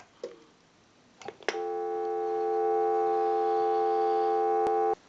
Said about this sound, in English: We can hang up and give you some dial tone on the analyzer.